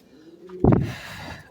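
A pigeon gives one loud, close coo that stands out from a quiet room backdrop, followed by a softer trailing murmur as the sound fades.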